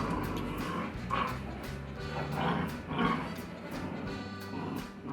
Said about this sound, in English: You dogs are terrible for audio.